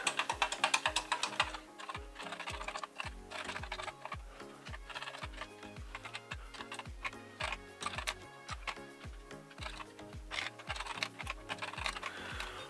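Rapid, steady key presses on a BBC Micro Model B Issue 4 keyboard during repair testing, a dense run of clicks close up, with no talking.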